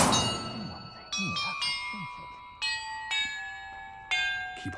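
Bells ring one after another in Hogwarts Legacy, five or six clear metallic strikes spaced about a second apart, each with a long shimmering decay, while a voice murmurs faintly underneath.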